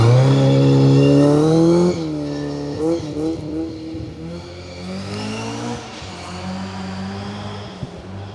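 A smoking, ailing rally car on a gravel forest stage drives past, its engine note loud and strained at first, then dropping away and fading into a rougher, uneven drone as it leaves.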